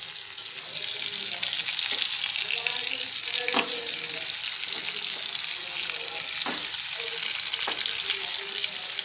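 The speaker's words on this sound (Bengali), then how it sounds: "এবার ডিমগুলো ভেজে নেব।" Eggs fry in hot oil with onion, tomato, bay leaf and a dried chilli, a steady bright sizzle that holds for several seconds, close up, with a few utensil taps over it and no talking.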